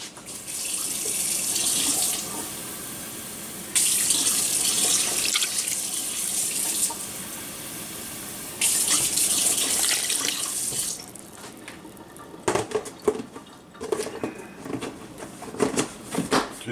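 Water runs steadily from a tap in a hissing stream, stopping and starting a couple of times, followed by clattering kitchen sounds.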